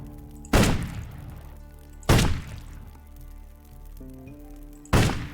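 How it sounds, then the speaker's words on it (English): Three loud, widely spaced gunshots ring out during a shooting contest in Risen 2: Dark Waters, each a sharp bang with a trailing echo over steady in-game music tones. "Now it's time for some shooting"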